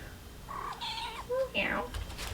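Domestic cat meowing several times up close in a quiet room, distinct rising calls a second apart, with a brief voice nearby.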